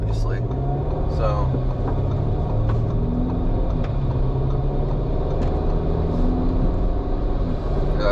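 A tuned Audi S3 (8Y, Stage 2 E85 tune) pulls in fourth gear, its engine droning loud and steady throughout while a person talks over it inside the car.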